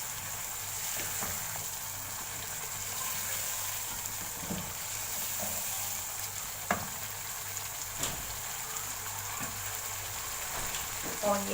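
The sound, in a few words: potatoes frying in a pan for aloo anday ka salan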